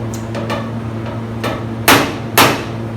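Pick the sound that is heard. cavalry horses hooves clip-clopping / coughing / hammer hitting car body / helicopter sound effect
hammer hitting car body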